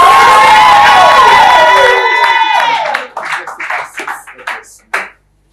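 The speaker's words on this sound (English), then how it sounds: "now let's give the Lord a round of applause." Church congregation applauding and cheering with whoops and shouts, loud and full for a few seconds before fading into scattered claps and voices.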